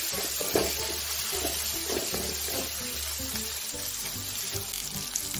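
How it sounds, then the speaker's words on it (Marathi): Steady sizzling in a hot pan as sev is sautéed, with scraping and stirring strokes repeating at an even pace, close up. "शेव टाकून छान प्रकारे परतून घ्यायचं आहे"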